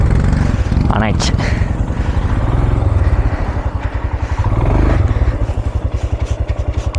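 A motorcycle engine chugs in a fast, steady pulse close by on a mountain route in Ladakh, rising and falling slightly in pitch, with a rider briefly talking over it.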